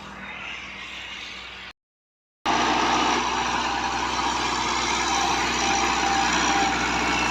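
A loud tractor diesel engine with a Stanadyne fuel pump runs steadily nearby with a constant rumbling drone, broken by a brief silent gap before resuming at the same level.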